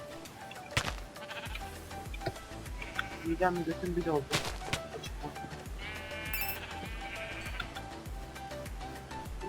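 Sheep bleating in the Minecraft Hexxit modpack, a few short game bleats mixed into busy background music and sound effects while someone talks over them.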